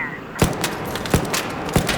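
Gunfire in the Arc Raiders video game on the Stella Montis map: three sharp, loud shots or short bursts spaced roughly evenly apart, each cracking over a muffled in-game background.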